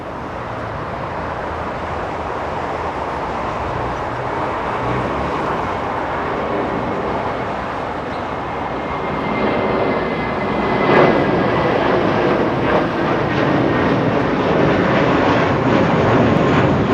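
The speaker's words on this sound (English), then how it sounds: "The Dreamliner getting a move on." An Air China Boeing 787 Dreamliner bound for Beijing moves at Los Angeles International Airport, a distant, steady jet rumble with a faint whine that swells slightly toward the end, with no voices.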